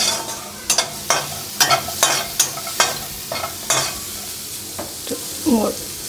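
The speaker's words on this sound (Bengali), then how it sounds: "এবার পেঁয়াজ, বেশ খানিকটা পেঁয়াজ রসুন দিলাম" Onion and garlic in a pan get stirred with a spoon, giving a string of sharp scraping clatters about twice a second over a soft, steady sizzle. A brief hiss rises near the end.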